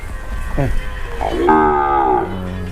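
Red Brahman cattle at a livestock market moo loudly and close, a long lowing call with an earlier short bellow, over low crowd murmur.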